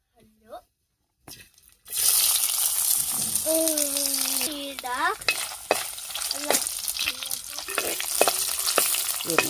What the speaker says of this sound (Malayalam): എണ്ണ ചൂടായിട്ടുണ്ട്, നമുക്ക് തേങ്ങ കുത്തിടാം.